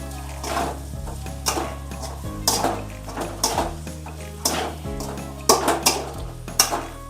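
Egg bhurji cooks in a pan, with a faint frying hiss beneath repeated sharp metallic scrapes and clinks of a utensil against the pan, coming in an irregular rhythm of stirring strokes.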